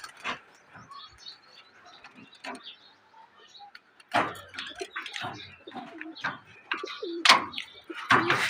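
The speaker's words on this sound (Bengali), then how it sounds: "এই যে কবুতরগুলোকে সব আজকে নর্মালি সব ছাড়বো ইনশাল্লাহ একসাথে।" Pigeons released outdoors into the sun coo and call near the microphone, first sparse and soft, then busier with wing flutters and movement in the second half.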